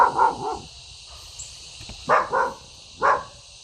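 A dog barks several times, in short bursts of two or three with pauses between, fairly distant with a faint hiss in the background.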